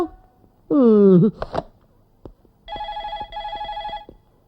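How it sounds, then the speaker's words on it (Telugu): A voice calls out briefly, then a telephone rings in two repeated electronic bursts, clear and close, with quiet gaps around them. "ఫోన్ రింగ్ అవుతుంది"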